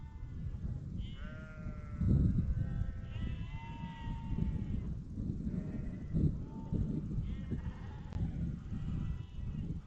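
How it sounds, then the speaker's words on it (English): A large flock of sheep in the Peak District bleats from below, many overlapping baas rising and falling at varied pitches over a low, rumbling outdoor background. "There are hundreds of sheep down there."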